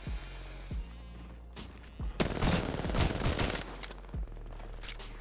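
Bursts of gunfire in a Halo game: several single sharp shots spaced out, then a dense rapid volley in the middle, with a low steady hum underneath and no talk over it.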